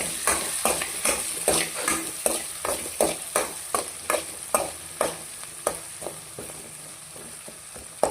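Tempering for tamarind chitranna fries in a pan, a continuous sizzle overlaid with regular, close scraping strokes of a spoon stirring the mixture, beat after beat, with the stirring slowing slightly toward the end.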